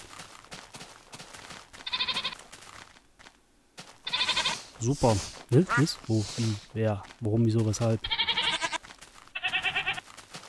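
Minecraft goats bleat in short, loud, wavering cries while following the player, several calls in a row, interleaved with a man chatting over the game sounds.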